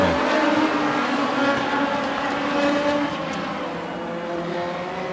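Race cars in a heat race, including a Ford Coupe, roar past in a steady, loud drone of engines that eases off slightly toward the end.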